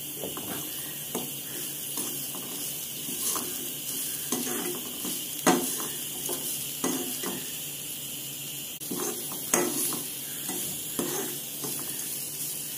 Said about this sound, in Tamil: இது நல்லா ரோஸ்ட் ஆகுதுங்க